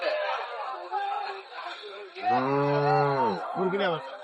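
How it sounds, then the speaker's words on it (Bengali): A pregnant Friesian or crossbred cow gives a loud, drawn-out moo amid the steady chatter of a crowded cattle market, with voices continuing around it. "হাট সেরা গাভি এগুলো"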